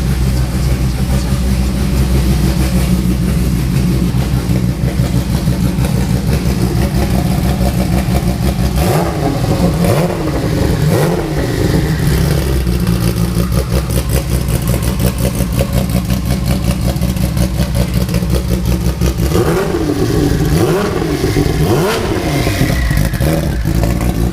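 A fully built GT Porsche race car engine revs in a race shop, a loud continuous roar with repeated sharp throttle blips and rising surges, the biggest bursts near the middle and toward the end.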